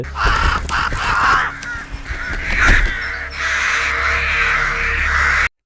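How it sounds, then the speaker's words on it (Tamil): Crows caw loudly and repeatedly while circling overhead in a scene from the TV series FROM, their harsh calls overlapping in bursts against a low rumbling background. "சுற்றியும் காக்காவாக வந்துக்கிட்டே இருக்கு"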